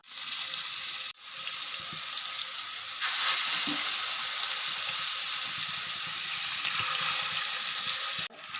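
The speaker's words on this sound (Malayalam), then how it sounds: "നമ്മൾ ഈ മീൻ പീസ് ഒരു മണിക്കൂറോളം മാരിനേറ്റ് ചെയ്ത് വെച്ചിട്ടുണ്ടായിരുന്നു ഇപ്പോൾ നമുക്കിന്നെ എണ്ണയിലേക്ക് ഇട്ട് കൊടുക്കാം" Marinated tuna pieces fry in hot coconut oil in a Kerala-style fish fry, giving a steady, loud sizzle with dense crackling that runs the whole time, briefly dipping twice.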